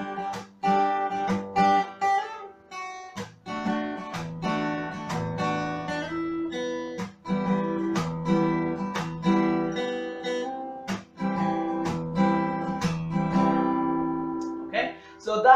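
Acoustic guitar playing a harder full-length version of Jason Mraz's "I'm Yours", with steady rhythmic strummed chords and brief muted chops between them, played close and alone with no voice.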